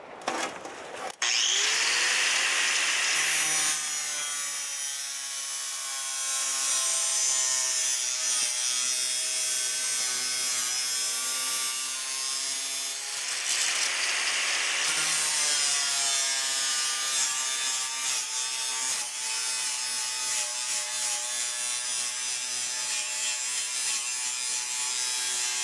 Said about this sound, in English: let me just show you what it would do with the big grinder